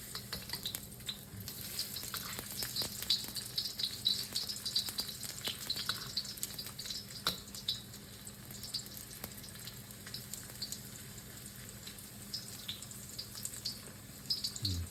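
Ginger fries in hot oil in a wok, giving a continuous soft sizzle with scattered crackles and pops and occasional stirring scrapes, fairly quiet and close.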